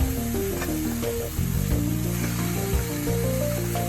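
Chicken pieces, washed with turmeric and unsalted, go into a pan of fried tomatoes for chicken thokku, raising a steady close sizzle that runs for the whole stretch with background music underneath.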